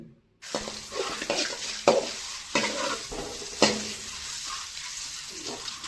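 Eggs being mixed with turmeric, salt and chili powder for dhaba-style egg curry, heard as soft stirring and scraping strokes with a faint sizzle close by, several distinct clinks standing out after a silent start.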